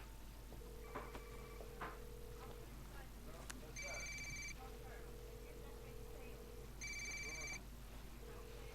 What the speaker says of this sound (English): Oh, that's your phone.